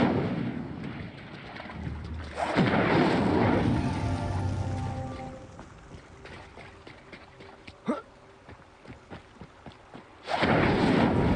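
The Incendio fire spell cast in Hogwarts Legacy: loud, rumbling bursts of fiery whoosh, first a sustained roar, then quieter crackles and thuds, and a final loud burst at the end.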